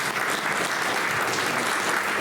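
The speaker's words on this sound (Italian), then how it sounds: "Applauso a Vanessa." Even, continuous clapping from an audience, a thick wash of hands at a steady level throughout.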